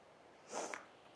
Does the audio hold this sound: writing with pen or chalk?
no